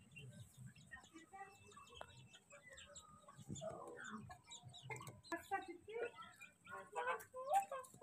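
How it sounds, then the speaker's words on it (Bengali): Desi hens cluck and cackle in a village yard in a steady, moderately close chatter of short calls, with people talking over them now and then. "এই মুরগির ডিম পারে"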